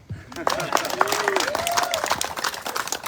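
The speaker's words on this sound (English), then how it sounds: "Round of applause." Audience applause at a bookshop author event for the Hebridean Baker, Cynniach MacLeod, a steady wash of clapping from a crowd with some voices mixed in.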